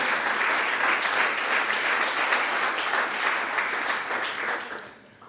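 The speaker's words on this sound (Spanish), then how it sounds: "Dale el mejor aplauso que tengas en tu corazón." A church congregation applauds together, a dense, steady wash of clapping that holds strongly for about five seconds before thinning and fading at the end.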